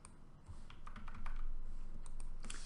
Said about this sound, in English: So as I type in here, the pitch ID will go for 6